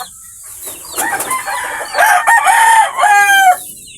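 Pet chickens near their laying nests cluck in short bursts, then a rooster crows loudly and close by in a drawn-out, wavering call, with a faint flutter of wings.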